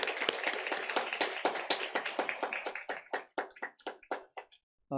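Church congregation at a Sunday worship service applauding new members, a dense burst of hand claps that thins into scattered individual claps and stops near the end.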